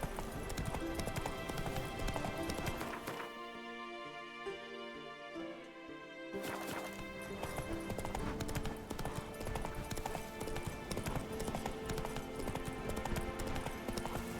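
Roach, the horse in The Witcher 3, gallops with steady, fast hoofbeats under game music. The hoofbeats drop out briefly mid-clip during a quieter musical passage, then resume, close and continuous.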